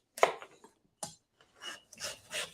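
A kitchen knife cuts around a honeynut squash in small slices, giving several short scraping, rasping strokes with brief gaps between them, close and clear, with no talking.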